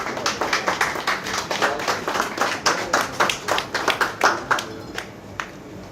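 Audience applause at a restaurant awards ceremony in Mauritius, a steady run of many hands clapping with a distinct, slightly uneven rhythm, fairly close and moderately loud, tapering off near the end.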